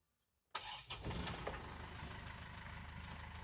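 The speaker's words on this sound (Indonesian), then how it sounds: "Nah ini kita start mobil nih." A 2018 Isuzu Panther Turbo car engine cranks and catches after a brief silence, then settles into a steady, close idle with a few sharp bursts as it starts.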